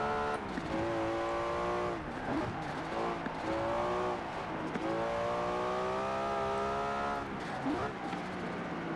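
A Nissan Skyline GT-R engine revving in Forza Horizon 4 while the car slides sideways, with the rising and falling engine note and faint tire squeal all quite soft under occasional talk.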